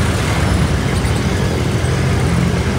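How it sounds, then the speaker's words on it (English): Dense, steady street traffic in Manila at night: a continuous loud roar of cars, buses and trucks passing close by, with no voices standing out. "Traffic right here, bro."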